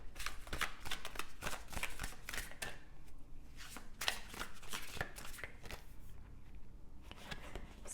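Tarot cards being shuffled by hand, a steady run of close riffling and sliding card sounds with brief pauses, no voices.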